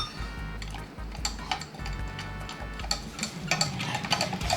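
A spoon clinks and taps repeatedly against a cup while stirring a bubble tea mix, in an irregular ticking rhythm over a low steady hum, close and moderately loud, with no talking.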